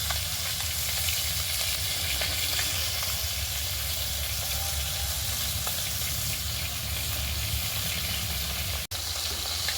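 Whole fresh pond fish, caught live, fry in hot oil with a steady close sizzle and crackle. One sharp click lands near the end, and nobody speaks.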